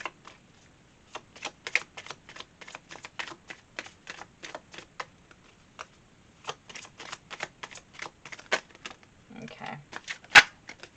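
Tarot cards are handled and drawn, making a rapid run of crisp, close card flicks and snaps with short pauses, then a brief rustle and one sharp tap near the end.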